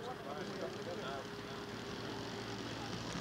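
A model Piper Cub aircraft taking off at a model airshow, its small engine a steady, continuous drone under a public-address announcer talking throughout.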